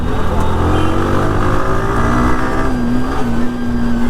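A Kawasaki H2R motorcycle revs hard in second gear, its loud, close engine note rising and climbing steadily as it accelerates, with a brief dip near the end.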